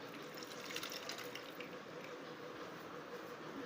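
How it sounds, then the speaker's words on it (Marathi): A short, steady trickle of water pouring, soft and close, running evenly for a few seconds with no voices. "मी जास्त पाणी नाही ओतलेलं थोडस ओतलेलं"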